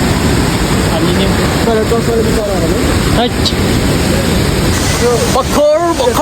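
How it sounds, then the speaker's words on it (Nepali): Steady rushing water from a waterfall beside a temple on the Annapurna trek, a constant broadband roar with voices talking over it throughout. "अनि साइडमा फेरि झरना"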